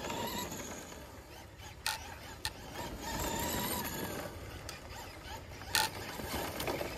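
A modified Traxxas RC car circles a dirt track at slow lapping pace, its electric motor whining steadily at moderate distance with occasional sharp clicks and bumps.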